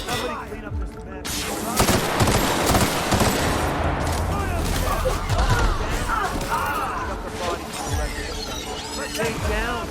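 Gunfire in The Outer Worlds: Spacer's Choice Edition on PS5, with dense, continuous shots and impacts through a chaotic firefight, loud and near, while voices shout over the shooting.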